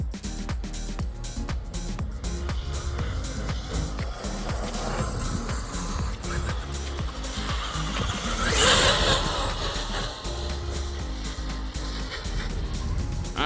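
An ARRMA Kraton 8S RC truggy drives over dirt, its electric motor whining with rough, continuous crunching and skittering of tires, briefly swelling louder near the middle.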